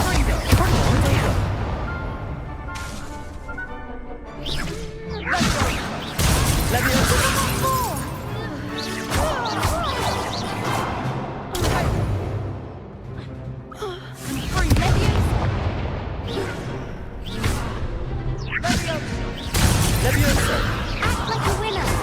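Expulso blasting spells in Hogwarts Legacy, with repeated loud bursts and shattering crashes in chaotic combat, interspersed with gasps and shouted voices.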